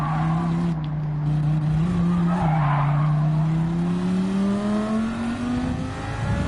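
GT3 race cars at Spa in Gran Turismo 7 lock up under very late braking, a loud sustained tire squeal sliding in pitch over steady engine drone, with no talking.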